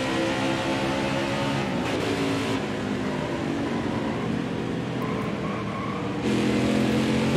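A racing truck in NASCAR Heat 4 revs hard through a turn, its engine droning loud and steady with pitch rising and falling as it shifts, dipping briefly mid-turn before surging again.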